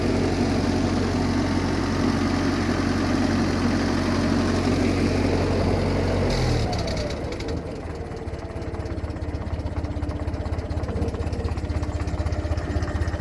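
A refurbished tractor's engine, just after carburetor tuning, runs loud and steady, then drops midway to a very low, slow idle that keeps chugging with a rough, throbbing pulse.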